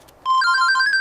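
A police officer's telephone rings with a bright electronic trill, starting abruptly and continuing steadily, close and clear with no talking.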